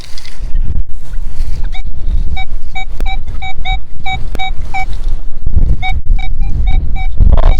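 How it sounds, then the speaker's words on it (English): Strong wind buffeting a microphone outdoors on a freshly cut field, a loud continuous low rumble and roar throughout, with bright repeated tonal beeps sounding over it. "the wind is shocking"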